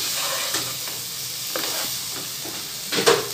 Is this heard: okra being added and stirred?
yes